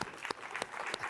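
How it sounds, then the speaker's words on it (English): An audience claps at a keynote event, a brief burst of steady applause with a few sharper individual claps standing out. "So please do give a very big round of applause for Matt Hancock."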